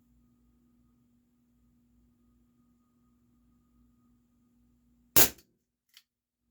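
A single sharp crack from a Dan Wesson 715 CO2 pellet revolver fired single action with RWS Superdome pellets, followed by a faint pellet impact, after a quiet low hum.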